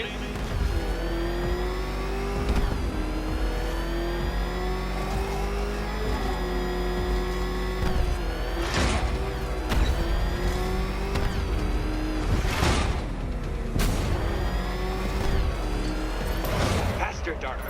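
The Batmobile's engine in Batman Arkham Knight roars and revs steadily at high pitch, with surging accelerations and tire noise, while a character's voice talks over it.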